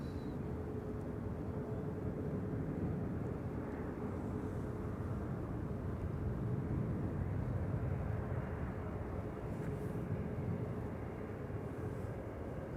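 A four-year-old TUI Boeing 737 MAX 8 airliner at Amsterdam Schiphol Airport gives a continuous, even, low engine rumble heard from a distance, quiet and unchanging throughout, with no voices.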